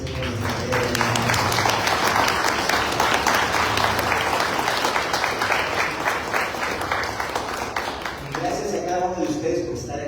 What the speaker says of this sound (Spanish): Un fuerte aplauso aquí presente en nuestra querida